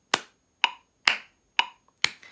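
Five crisp, evenly spaced hand claps ring out close and alone at a steady tempo as an offbeat rhythm exercise for piano scale practice, each a sharp dry smack with a short decay.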